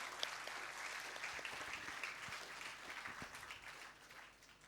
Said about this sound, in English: Can we please have a huge round of applause for Ushika?